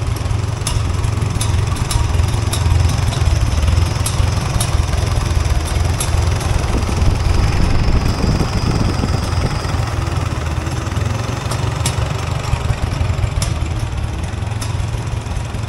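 Old Farmall tractor engine that sat unused for many years, idling steadily and close by, a continuous smooth low rumble with faint ticking and no talk.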